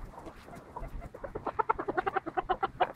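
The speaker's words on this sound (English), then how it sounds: "Oh, here come the chickens, they're going to peck the phone." Farm chickens cluck close by in a grassy field, a rapid series of short, sharp clucks that grows louder and more insistent.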